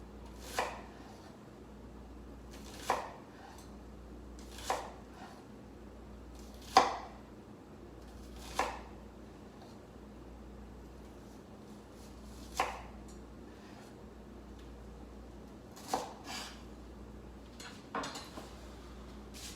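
Mushrooms for a stroganoff being cut with a knife on a cutting board, heard as sparse, sharp single chops spaced a couple of seconds apart over a low steady hum, close but fairly quiet.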